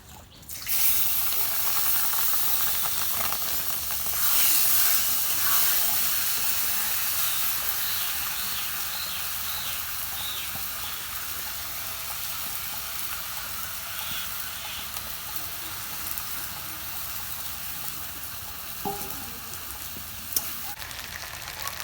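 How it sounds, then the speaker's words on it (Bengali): Washed biryani rice is tipped into a hot kadai for egg biryani. A loud, steady frying sizzle starts almost at once and holds for about twenty seconds, easing slightly, with a few light knocks near the end. "বিরিয়ানি চাল ধুয়ে থাম এখন আমি কড়াইতে দিয়ে দেব"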